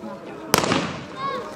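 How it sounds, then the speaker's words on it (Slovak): A starting pistol fires to begin the 27th annual Grand Prize town running race in Holíč. One sharp, loud crack rings out among crowd voices and chatter, with a brief echo afterwards. "odštartoval veľkú cenu mesta výstrelom z pištole"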